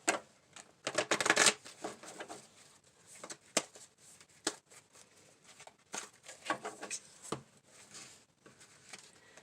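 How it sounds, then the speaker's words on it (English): Tarot cards being shuffled in quick irregular bursts of soft riffling and slapping, close up, with brief pauses between. "And we are going to shuffle a little bit."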